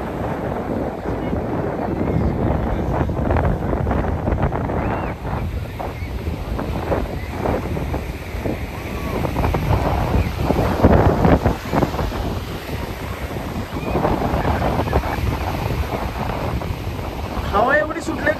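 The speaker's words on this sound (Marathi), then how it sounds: "हवा एवढी सुटले कदाचित माझा आवाज येत नसेल" Strong wind blows across Rimini beach in Italy, a continuous rough roar buffeting the microphone with surf beneath, while a person talks through the gusts.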